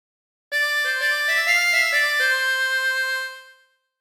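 The Family Guy theme plays on a chromatic harmonica as a short, clear phrase of several quick stepped notes with rich reedy tone, played alone before fading out.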